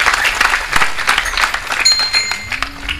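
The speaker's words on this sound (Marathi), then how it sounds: "भरतजींच्यासाठी टाळ्या सगळेजण वाजवतात" Audience at a Marathi kirtan claps together in steady, fairly loud applause, with scattered light clinks and faint background voices.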